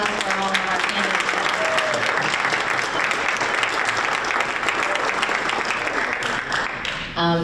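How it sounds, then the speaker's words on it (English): Audience applause for candidates at a Big Sky community vote event, a steady dense wash of clapping that fills the clip from start to finish, with faint voices mixed underneath. "applause for all of our candidates."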